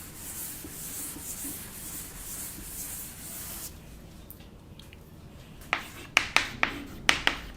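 Brisk rubbing strokes wipe writing off a classroom board for several seconds, fairly soft and close, followed by a quieter pause and a series of sharp taps.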